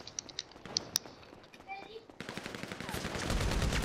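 A rapid-fire gun in GTA 5 Online during a parkour deathmatch crackles in a fast, steady burst that grows louder and denser toward the end, with a voice talking over the game.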